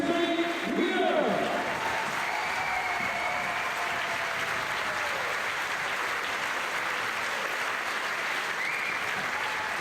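Sustained crowd applause for the women climbers at an IFSC Climbing World Cup lead final in Valence, steady and dense throughout, with a brief voice over a loudspeaker near the start.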